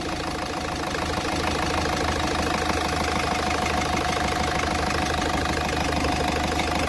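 A Ford Figo engine with a knocking fault runs steadily at idle, a loud, continuous close-up drone with a rough rhythmic knock throughout and no talk.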